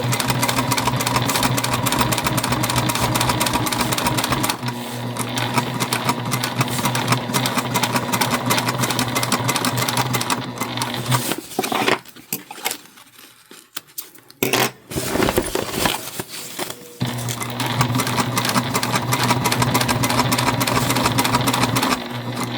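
Juki TL2 sewing machine stitching a drawstring backpack, its steady, close mechanical whir running continuously, stopping briefly in the middle for a short backstitch, then starting again at the same pace.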